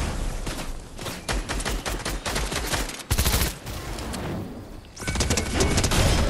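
Sustained heavy gunfire in a shooting video game, repeated rapid bursts and sharp shots with a loud boom partway through, dense and close throughout with no voices.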